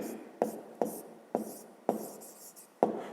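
Pen or chalk writing down a maths formula, a series of soft scratchy strokes with several sharp taps at roughly regular intervals, close and quiet, with faint murmured speech.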